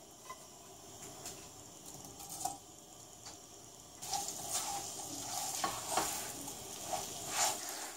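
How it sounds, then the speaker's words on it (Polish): Green beans are tossed and stirred in a hot frying pan, a steady sizzle with repeated scraping and clacking of the utensil, growing louder and busier partway through, with no talking. "Dokładamy fasolkę i mieszamy."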